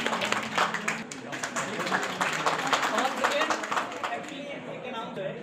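Scattered hand clapping from a small crowd at a results celebration for students, steady through the clip with voices talking over it.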